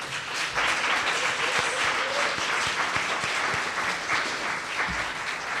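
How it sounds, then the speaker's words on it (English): Sustained applause from a large audience honoring artists at a Women's History Month celebration evening, a dense steady wash of clapping that runs throughout at even loudness. "Can we have a round of applause for them?"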